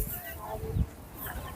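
Young chickens for sale at a market cluck and chirp in short bursts close by, partly under a voice talking.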